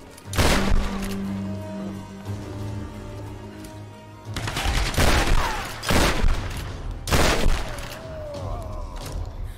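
Pistol fire in Tomb Raider (2013) comes as loud, sharp bursts of shots in separate clusters, with rumbling echoes and quieter game noise between volleys.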